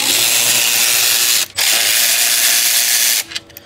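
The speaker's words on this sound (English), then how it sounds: "I'm gonna take off 2 bolts right away." A hand ratchet backs out 13 mm bolts on the suspension of an Audi B9 S4/S5 in two close, loud bursts of rapid clicking, separated by a short pause and with no talk.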